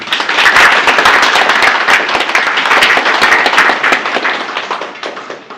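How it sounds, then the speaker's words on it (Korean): Loud, dense applause from an audience greeting a candidate at an architects' association presidential election debate in Jeju, sustained throughout and tapering slightly at the end. "큰 박수로 맞이해 주시기 바랍니다"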